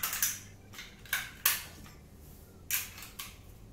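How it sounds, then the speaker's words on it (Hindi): Small AAA batteries being pushed into a plastic fireplace remote control, a handful of sharp close clicks and snaps spaced irregularly over a few seconds, quiet and alone. "आइए इसमें अपने सेल डालते हैं।"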